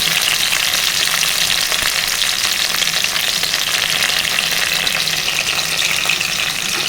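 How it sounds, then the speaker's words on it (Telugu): Onion pieces and curry leaves fry loudly in hot oil in a pan, a dense, even crackling sizzle that holds close and constant throughout, with no voices. "ఇప్పుడు ఉల్లిపాయ ముక్కలు వేసుకోవాలండి కరివేపాకు కూడా వేసుకోవాలి"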